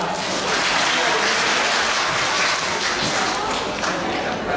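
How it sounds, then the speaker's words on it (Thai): At a Thai school short-play performance, an audience claps loudly as a dense, continuous wash of applause that holds steady throughout. "ขอท่านที่มีชีวิตทุกท่านปรบมือดังๆเลยครับ"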